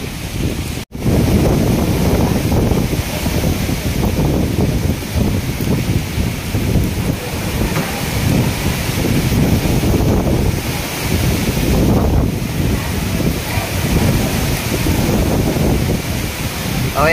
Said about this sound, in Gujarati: હવે આ પવન ધીરો પડી જાય ને તો સારું.